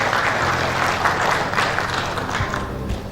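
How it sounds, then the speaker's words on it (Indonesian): Steady, dense audience applause at an evening event in Jambi, a loud, continuous wash of many hands clapping for the whole stretch, with no speech over it. "Tepuk tangan untuk pemerintah Provinsi Jambi."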